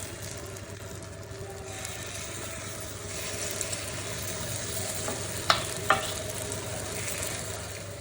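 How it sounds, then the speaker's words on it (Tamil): Kara paniyaram batter of pearl millet fries in sesame oil, giving a steady close sizzle with a low hum underneath and a couple of sharp metallic clinks near the end. "கார புளிப்பணியாரம் ஊற்றிக்கலாம் நல்லெண்ணெய் ஊற்றிருக்கிறேன்"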